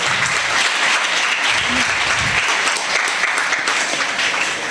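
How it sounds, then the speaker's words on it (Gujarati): Steady, dense audience applause at a lecture and book launch fills the whole stretch, loud and continuous at an even level, with faint voices underneath. "આપણે સન્માનને જોરદાર તાળીઓથી વધાવશું"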